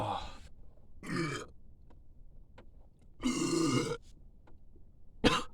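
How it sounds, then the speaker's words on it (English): After drinking Sprite, a person lets out a series of grunting burps and throat sounds, spaced apart by short silences, with one longer, louder burp near the end, all close to the listener. "I almost didn't burp."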